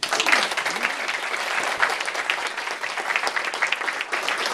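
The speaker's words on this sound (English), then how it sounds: "I'd like you to give him a nice round of applause" A lecture audience gives a round of applause for a colleague introduced by a basketball coach, many hands clapping in a dense, even roar that holds steady throughout, no speech over it.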